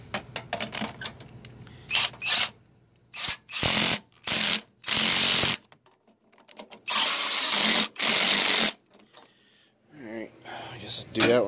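A power drill driving bolts on a 2002 Jeep Liberty 3.7 V6 during a radiator replacement whirs in a series of short, loud bursts with brief pauses between, close by, and faint handling noises in the gaps.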